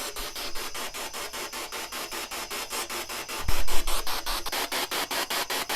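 SB7 spirit box sweeping through radio stations on Beacon Hill Trails, a steady harsh hiss chopped into rapid, regular pulses, loud and continuous, with a brief low thump midway.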